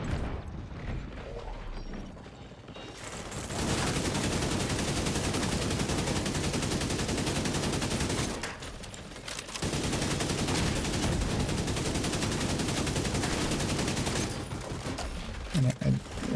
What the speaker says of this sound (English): I'm gonna shoot that one, shoot that one, shoot that one, shoot that one,